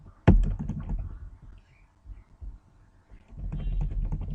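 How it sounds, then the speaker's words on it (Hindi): Typing on a computer keyboard in MS Word, a sharp opening click followed by scattered light key taps, then a denser burst of steady keystrokes toward the end, close and moderately loud with no voices. "देखिए हो रहा है टाइपिंग"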